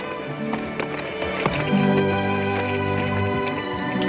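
A horse's hooves clop and shuffle nearby over a low, steady hum, with a few sharp taps mixed in.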